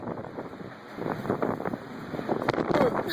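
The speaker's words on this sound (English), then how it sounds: "Look at that damn wind" Strong wind buffets a huge 230,000-ton ship, a steady rushing roar with gusty bursts close to the microphone and no speech.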